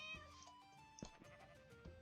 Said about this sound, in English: Oh my gosh, there's a kitty!